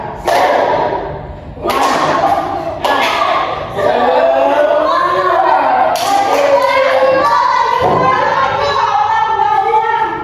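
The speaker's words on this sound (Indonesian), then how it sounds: "Jadi tepuk semangat" Pupils in a microteaching classroom lesson perform a rhythmic spirit clap, with bursts of group clapping in set patterns mixed with loud chanting children's voices, close and energetic throughout.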